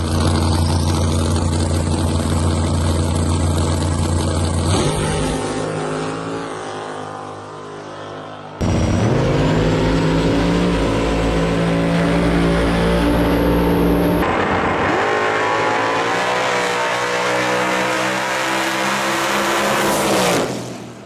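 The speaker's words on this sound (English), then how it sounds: "to watch that Falcon leave by itself, it doesn't look that fast" A Ford Falcon drag car launches down the strip, its engine screaming loud and close with sustained high revs and sharp gear changes, the roar cutting off and surging again across a long, relentless run.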